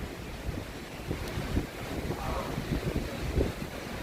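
Surf rolls in at a Chicago lake beach on a rough day, a steady churning wash of waves mixed with heavy wind buffeting the microphone, loud and continuous, with no talking.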